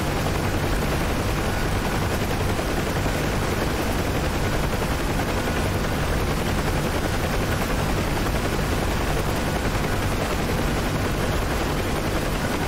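Continuous roar of a Huey helicopter in the DCS combat flight game over a river assault, steady and loud throughout with gunfire crackling in the dense broadband noise.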